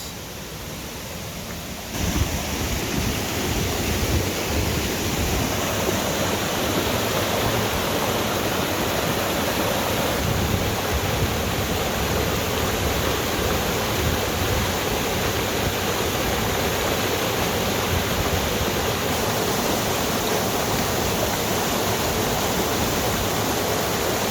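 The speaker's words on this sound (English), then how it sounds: "we've got a bridge and we have some waterfalls" Steady, loud rushing of a waterfall in the Nant Gwernol woodland, Wales, a continuous broadband roar that fills the whole stretch without pause or change.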